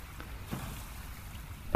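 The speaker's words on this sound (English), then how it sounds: "I can hear the wind." Wind blowing across the open sea ahead of a storm in the survival game Stranded Deep, a low steady rushing drone from a boat at sea with a brief louder gust near the end.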